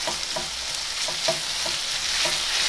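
Vegetables for a bolognese and marinara sauce, including tomatoes, garlic, onion and basil, fry in a canola and extra virgin olive oil blend. A steady, close sizzle runs throughout, with regular soft stirring clicks about every half second.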